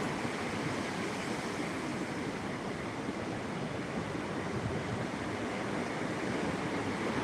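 Waves roll onto a seashore in a constant, dense rushing wash, with wind noise on the microphone and no voices.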